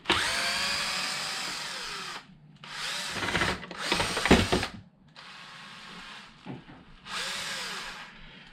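A power drill runs in several loud bursts with brief pauses between them, whirring and ratcheting as it backs screws out of a crash-damaged Traxxas Sledge RC car's chassis.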